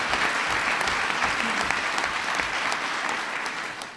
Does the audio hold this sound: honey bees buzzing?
no